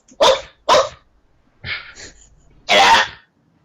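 A person imitates a dog, giving several loud, throaty barks: two quick ones, a softer pair, then one long final bark.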